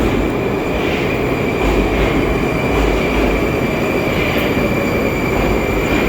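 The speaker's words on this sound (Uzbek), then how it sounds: "Metro ham keldi." A metro train rumbles loudly into a Moscow Metro station with a continuous roar, rattling wheels and a high steady squeal, close and constant.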